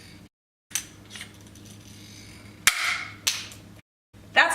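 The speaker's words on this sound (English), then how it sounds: "Now I'm going to keep squeezing until I hear a popping sound." A handheld rivet gun is squeezed repeatedly on fabrication materials: a few sharp, close metallic snaps and clicks with short gaps between them, ending in a louder pop as the rivet stem breaks.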